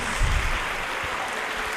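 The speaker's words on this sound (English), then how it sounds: "Let's give one more round of applause for our science recipients." A brief burst of applause from a crowd at an eighth-grade moving-up ceremony, steady clapping that fades slightly toward the end.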